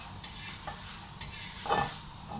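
Omelette cooking in two to three spoons of oil in a preheated pan, a steady soft sizzle with a few light scrapes and clinks of a utensil against the pan.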